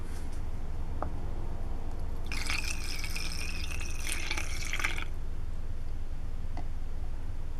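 Liquid poured from a container while mixing homemade windshield washer fluid: one continuous splashing pour of about two and a half seconds, close and clear against a quiet background, with a faint drip before and after.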